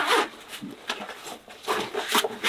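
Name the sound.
zipper on inner flap pocket of Savotta Jääkäri XL rucksack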